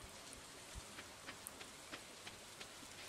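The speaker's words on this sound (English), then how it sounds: "The rain brings weird noises." Steady rain falls in the Stardew Valley farming game, a soft continuous patter with faint scattered drop ticks, low and even throughout with no talk over it.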